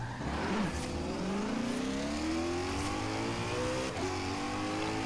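A hypercar in the racing game Forza Horizon 4 accelerates hard, its engine note climbing steadily through the gears with a loud, continuous rising whine and no talk over it.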